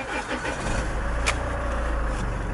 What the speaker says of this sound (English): Let me just start the engine